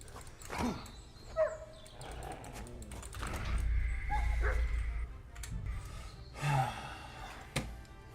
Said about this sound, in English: I don't really want to kill a dog.